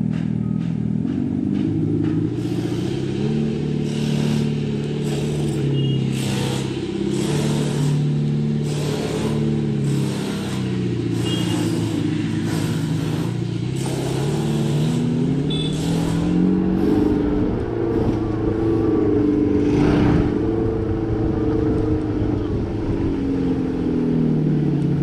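A steady, loud electric motor whine from a Revolt RV400 electric motorcycle runs continuously, shifting pitch as it speeds up and slows, with no talking.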